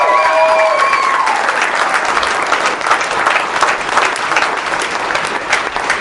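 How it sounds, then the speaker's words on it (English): Audience applause at a televised show, a dense, steady clapping from a crowd that carries on strongly and evenly for several seconds, with a faint voice at the start. "you can clap for that"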